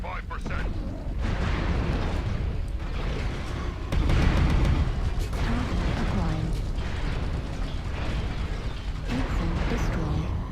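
A destroyed mech blows up in a video game, heavy blasts and rumbling debris booming over mechanical clanks, with a player talking excitedly throughout.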